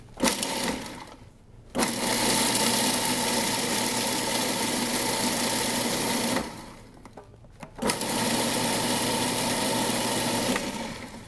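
Food processor whirling almonds with cocoa powder, a loud steady motor whir that runs for several seconds, stops briefly, then starts again for another long run.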